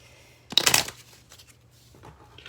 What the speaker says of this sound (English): I'm gonna pull a few other cards